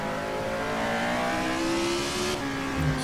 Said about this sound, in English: One last little press of the throttle there. Listen to that lovely sound.